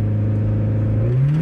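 A 32-year-old Mazda MX-5 accelerates, its engine note droning loud and close and then climbing steadily in pitch as it picks up speed.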